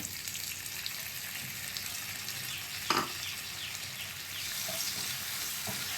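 Two tomatoes, chopped into small pieces, frying in a pan for an egg masala curry: a dense, even sizzle throughout, with one sharp utensil clack near the middle and a couple of softer taps later, no voices.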